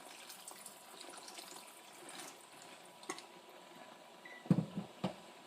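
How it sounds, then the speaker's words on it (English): Water is poured into a pot of chickpea and potato curry: a quiet, steady trickle with a few soft clunks and splashes near the end. "I'm going to add a little bit more water now, just enough to cover"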